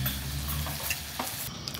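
Food sizzling and frying on a hot plate at a meal in Ella, Sri Lanka, a steady close crackle with faint stirring and scraping noises, no talking.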